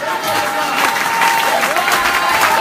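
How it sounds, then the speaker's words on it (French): Church congregation applauding together during worship, a dense sustained wash of clapping with crowd noise and some voices mixed in, loud and continuous. "Acclamons le Seigneur."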